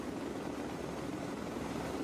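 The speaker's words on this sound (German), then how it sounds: "Plötzlich taucht ein Sea Stallion-Hubschrauber der Marines hinter unserer Maschine auf." A Marine Corps Sea Stallion helicopter flies close behind another aircraft in extremely strong wind, giving a loud, steady rotor and engine drone with no break or voice.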